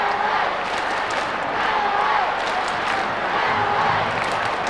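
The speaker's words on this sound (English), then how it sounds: "The crowd comes to light here at Footy Park." A large stadium crowd roars at Footy Park during a 1997 Australian football match between Adelaide and St Kilda, a sustained, swelling wash of cheering with distant shouts and a few claps.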